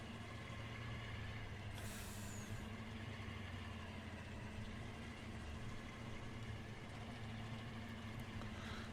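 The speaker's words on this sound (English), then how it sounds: "The truck should handle it just fine." A truck in the farming game Farming Simulator 19 idles with a low steady engine hum, and a sharp hiss of air brakes bursts out near the two-second mark.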